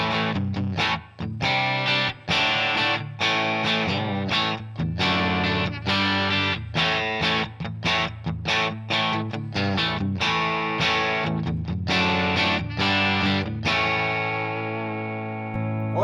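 Electric guitar through a Valeton GP180 modeler set to a Fender Silver Twin amp model with spring reverb, playing a steady run of chords and notes for about sixteen seconds, ending on a sustained ringing chord.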